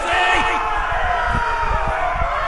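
A crowd cheers and roars loudly throughout, a dense continuous wall of voices in a fighting-pit arena in a Game of Thrones video game, with scattered thuds and shouts mixed in.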